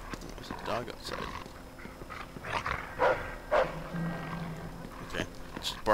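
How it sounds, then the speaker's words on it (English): A dog in the Mafia 2 video game barks in several short, separate bursts, moderately close, with people talking over and between the barks. "There's a dog outside."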